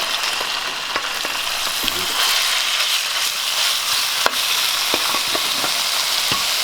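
Steady hot-oil frying crackles and sizzles continuously, with occasional sharp pops and stirring clicks close by.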